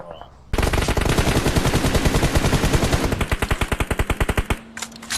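Loud rapid automatic gunfire from a battle royale video game, one long sustained burst followed by slower distinct shots, with faint background sounds before and after.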